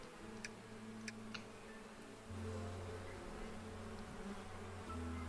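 Bees hum and drone in the video game APICO, a steady low buzz with a few brief ticking clicks near the start, continuous and fairly quiet throughout.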